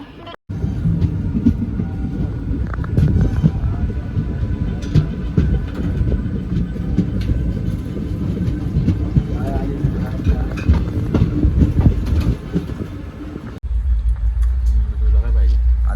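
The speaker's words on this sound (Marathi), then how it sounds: "आणि ट्रेन सुटलेली आहे." A train pulling out of a station, with a continuous heavy rumble and rattle of the carriages close by that shifts to a deeper drone near the end.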